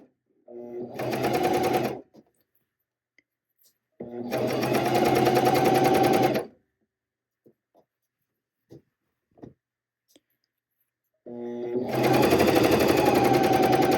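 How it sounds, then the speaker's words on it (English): A sewing machine stitches a fold-over elastic strap to itself in three loud, steady whirring runs separated by quiet pauses with faint handling noises, and a person talks nearby. "now we are just sewing this strap to itself"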